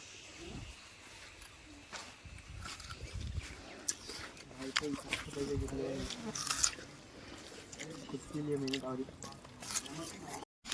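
People outdoors at a farmhouse eat sweet watermelon, with soft wet squishing bites and chewing at close range, quiet and irregular, while voices murmur around them.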